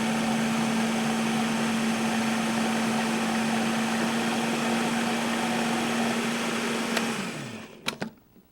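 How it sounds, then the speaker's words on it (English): A food processor fitted with a chopping blade purees thick soup in a steady, loud motor whir that holds evenly, then winds down and stops, followed by a few sharp clicks and knocks. "I'm going to put this in the food processor with the chopping blade, and we're going to puree this up"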